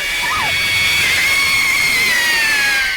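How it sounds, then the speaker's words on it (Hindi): A sustained, high wailing scream rings out from an old haunted mansion in a horror cartoon, loud and continuous over a hissy background. "एक रोज उस हवेली से चीखों की आवाज आने लगी।"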